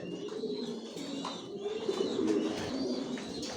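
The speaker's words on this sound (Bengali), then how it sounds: "বিগ সাইজের সব ইম্পোর্ট করা কবুতর পালি" Low, throaty cooing of imported racer pigeons rolls on steadily and softly, with faint chirps over a quiet background.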